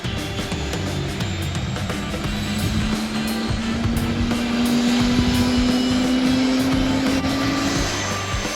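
A propeller airplane at the Grand Canyon airport drones steadily and loudly, its engine tone slowly rising in pitch as it moves, with no voices.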